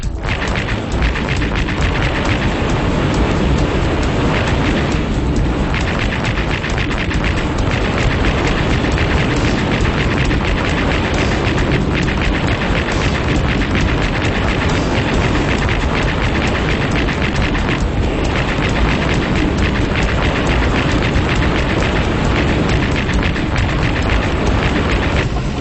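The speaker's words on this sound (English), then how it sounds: "you actually get to fire some missiles at the building" Missiles are fired at a building in a Sega Dreamcast video game, giving a dense, continuous roar of booming explosions and blasts that stays loud and steady throughout, with no speech.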